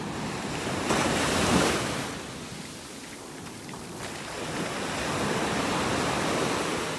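Waves breaking on a beach in North Naples, Florida, a steady wash of surf with swelling crashes, mixed with wind buffeting the microphone and no voices.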